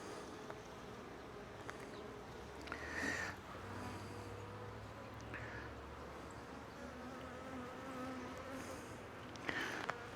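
Honey bees buzzing around an open hive, a soft steady drone of many insects with louder buzzing passes as individual bees fly close, fairly quiet overall.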